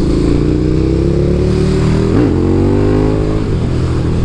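A KTM Superduke 1290 R motorcycle roars loudly and continuously on a test ride. Its engine note rises and falls as it is revved, with a brief sharper surge midway, under steady wind and road rumble.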